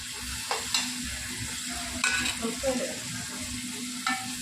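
Tomatoes hit a pan of frying onions and ginger for gongura chicken, a steady soft sizzle broken by a few sharp stirring scrapes and clinks.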